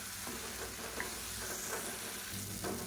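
Tomato masala with chilli powder and turmeric sizzles and fries in a pan for hotel-style egg gravy, with a steady hiss, soft scraping stirs and occasional clinks.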